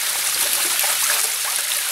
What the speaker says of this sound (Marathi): इथं आजूबाजूला इथे एक झरा लागलेला आहे